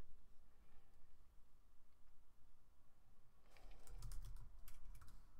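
Someone types a password on a computer keyboard to log in, making a quiet burst of close, irregular keystroke clicks after a few seconds of near silence.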